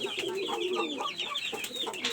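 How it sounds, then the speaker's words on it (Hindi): A pet rooster kept in a cage clucks and calls in a steady run of short, close bird sounds, continuous and fairly loud throughout. "ये मुर्गा बहुत प्यारा है, बस इसने ज़रा क्रीज नहीं पूरी की।"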